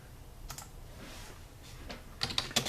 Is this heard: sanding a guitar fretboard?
no